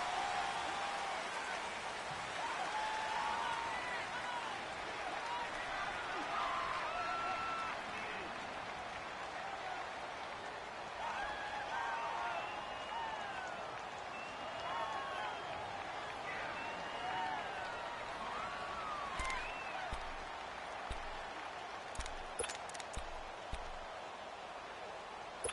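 Stadium crowd in a PS4 football video game, a steady, dense roar that swells and holds throughout while a commentator talks over it.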